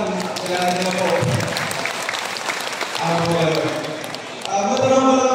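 Crowd applause at an outdoor political rally in Manila, a dense steady clatter of clapping that carries through the whole stretch while someone speaks over it and cheering voices rise and fall underneath.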